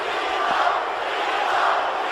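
Steady roar of an arena crowd at a wrestling match in the video game WWE 2K19, a continuous, fairly loud wash of voices with no clear peaks, heard alone.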